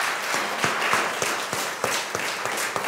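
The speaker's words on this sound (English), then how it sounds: "we're going to give God a hand clap of praise for bringing us into another year." A church congregation clapping hands in a loose, steady rhythm during a Sunday worship service, many claps blending into rolling applause that fills the room, with no talking.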